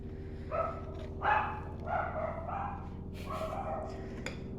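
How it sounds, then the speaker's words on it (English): Several household dogs bark and yip indoors, a handful of moderate barks spaced over a few seconds above a low steady hum. "Don't mind my dogs."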